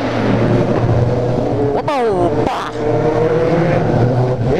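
Motorcycle engine revving hard, a sharp rising rev sweep near the middle standing out over a steady loud engine drone, with people talking nearby.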